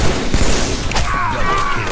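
Rapid, dense blasts of rocket launcher fire and explosions fill a Halo multiplayer match, loud and continuous with overlapping booms and crackle throughout.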